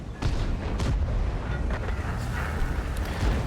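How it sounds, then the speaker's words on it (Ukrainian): Artillery fire in the World of Tanks video game: heavy booms and rumbling blasts roll over a dense, continuous battle din, loud and close throughout. "арта реально тут не щадить нікого"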